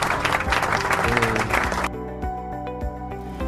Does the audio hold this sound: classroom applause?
yes